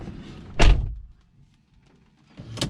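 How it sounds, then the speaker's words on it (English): A BMW 335i car door swings shut with a solid, close thud, followed by quiet and then a second fainter knock near the end. "so I'll shut the door."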